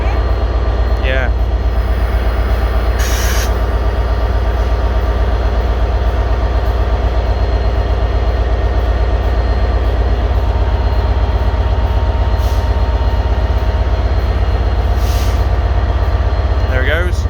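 A passenger train pulls out of Ruabon station with a loud, steady rumble and rolling noise that holds throughout, with a few faint higher squeals along the way.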